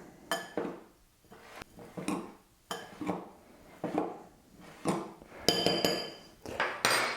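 Special gomasio being mixed in a bowl for courgette and carrot fries, with a series of sharp clinking taps of utensil against dish at an irregular rhythm, close and clear.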